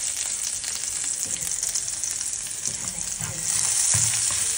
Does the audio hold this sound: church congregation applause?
no